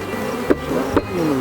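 Honey bees around an opened hive, a close, steady insect drone with two brief knocks or thuds standing out from the buzz.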